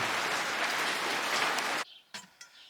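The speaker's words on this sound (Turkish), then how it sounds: "Bir yağmur daha yağıyor." Steady rain pours down for almost two seconds, then cuts off and leaves a few scattered drips and patters.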